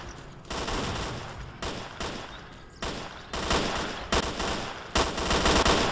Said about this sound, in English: All I have is this frickin' shitty shotgun.